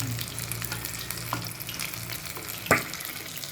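Chicken pieces deep fry in oil, a steady close bubbling sizzle with a few faint spits and one sharp crackle near the end, no voices over it.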